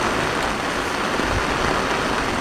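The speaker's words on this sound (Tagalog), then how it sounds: "Umuulan." Rain falling steadily on surfaces in a mountain stone village, a dense, even hiss with no pauses.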